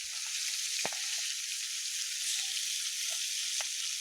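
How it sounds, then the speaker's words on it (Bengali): Silver carp fish frying in oil, a steady close hiss of sizzling with a few faint clicks of a utensil, no voices. "এই যে সিলভার কাপ মাছটা প্রথমে ভেজে নেওয়া হলো"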